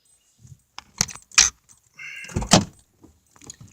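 Keys on a shiny keychain jangle in several quick bursts of metallic clinking, close and fairly loud, with a short scrape and thud near the middle, likely from handling around a Cadillac.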